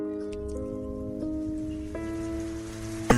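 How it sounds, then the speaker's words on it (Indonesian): Heavy rain as a sound effect in an Indonesian radio horror drama: a steady, even hiss of downpour under sustained musical tones, with no voices. "Namun pada saat itu turun hujan deras."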